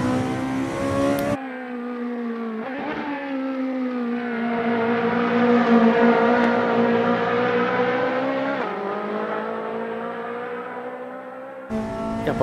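A Ferrari race car engine revs hard and loud, rising and holding a strained, harmonic whine through the gears before easing off, with another burst of revving at the end.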